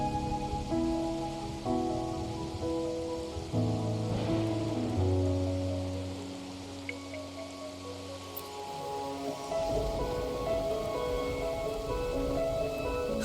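Rain falls steadily as a soft, broad hiss in the video game Wuthering Waves, with sustained melodic music tones layered over it.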